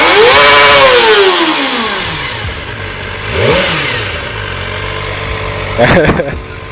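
Kawasaki ZX25R motorcycle on its stock exhaust, started and revved hard: a loud, shrill high-revving whine that falls away, then quick sharp blips of the throttle, with people talking nearby.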